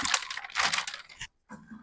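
Mylar food-storage bags crinkle and rustle loudly up close in dense crackling bursts as they are handled and packed, with a brief silent gap before more rustling.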